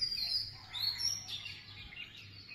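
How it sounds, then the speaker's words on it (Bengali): Faint, high twittering from several birds drifts across an open village paddy field, brief chirps scattered over a calm, near-silent backdrop. "পাখিদের কিচিরমিচির কোলাহল"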